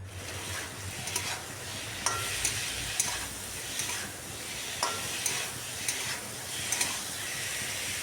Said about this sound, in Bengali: বেশ কিছুক্ষণ খুব ভালো করে কষিয়ে নিলাম।